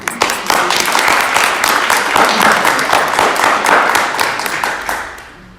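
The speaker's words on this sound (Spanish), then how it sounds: "Un aplauso para Pilar Reyes." Audience applause at a book presentation, a loud, dense burst of clapping from a seated crowd that holds steady for several seconds and then fades out.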